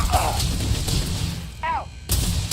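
Heavy gunfire in a sci-fi space video game, booming thudding shots up close, with a brief warbling electronic sound partway through and a voice shouting over it.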